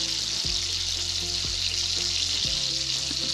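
Thick pancake batter fries in melted butter, a loud, steady hiss of sizzling close up, broken by a few soft low thumps of spooning, with no talking.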